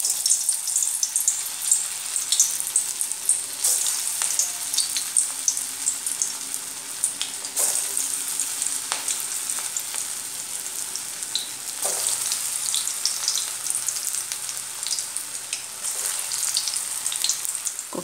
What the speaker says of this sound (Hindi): ऐसे बॉल्स को अभी तेल में फ्राई करेंगे।